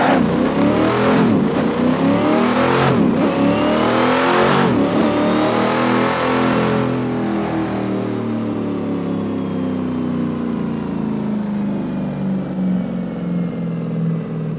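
A modded video game car engine revs hard in repeated rising surges as its tires spin and burn, then settles into a long, loud, wavering drone.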